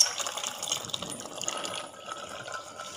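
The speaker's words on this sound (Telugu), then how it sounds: "ఆ నీళ్ళతో సహా కొంచెం పోసుకొని ఉడికించుకుందాం" Boiled rajma is poured with its cooking water into a pan, a continuous liquid gush and splash of moderate loudness lasting the whole moment, with no talking.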